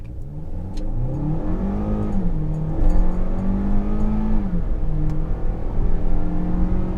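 A 2020 Kia Soul GT Turbo engine revs up hard from a standstill in sport mode, its pitch climbing through several gear shifts with brief dips between, loud and close throughout.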